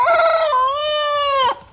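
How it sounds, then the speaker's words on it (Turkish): A single rooster crows clearly and close by, one long, loud, sustained cock-a-doodle-doo lasting over a second before cutting off abruptly, with no talking over it. "Horozlar bu kadar çok ötüyor."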